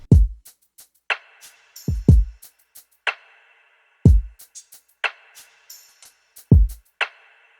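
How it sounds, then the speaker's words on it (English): A slow programmed lo-fi hip-hop drum groove of deep kicks and snappy snares, now filled in with quick ticking hi-hats and small percussive clicks between the main hits. "I add the top end with some hi-hats, some perks, and some other sounds"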